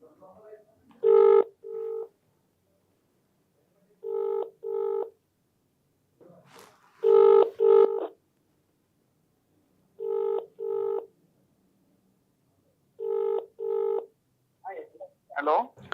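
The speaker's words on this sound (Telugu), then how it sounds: "స్థానిక ఎమ్మెల్యేకి ఫస్ట్ ఫోన్ చేద్దాం" A phone call placed to a local MLA rings out on the line: five evenly spaced double-ring tones sound clearly against silence, with a brief faint voice at the very end.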